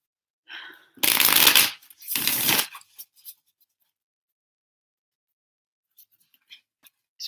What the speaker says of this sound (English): Let me pull out my other cards.